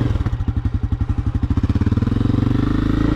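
Enduro dirt bike engine on a hard off-road route, a loud close single-cylinder thumping that chugs at low revs and then quickens into a rapid, steady pulsing as the rider gives throttle.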